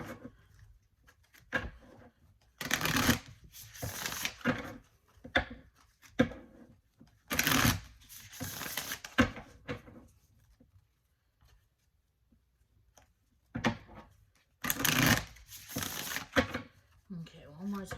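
Tarot cards from a Light Seers Tarot deck being shuffled in several separate bursts of papery riffling, close and fairly quiet, with pauses between bouts and faint talk in the gaps.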